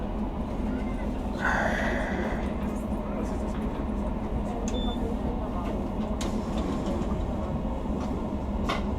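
An ÖBB Nightjet NJ 447 new-generation train departs Feldkirch station, heard from inside as a steady low rolling rumble with a brief whine and a few clunks, with people talking faintly.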